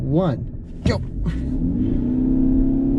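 A 2020 Ford Escape Hybrid revs up on a race track start line, left-foot braked. Its engine rumble builds to a steady, rising drone under a short spoken countdown.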